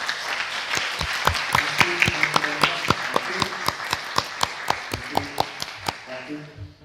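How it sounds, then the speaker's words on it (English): Applause after a presentation on nonviolent communication, a few people clapping at a steady rhythm with sharp claps that thin out toward the end, while a faint voice murmurs underneath. "So if we can just have a round of applause to Dr. Vedavyas on his presentation."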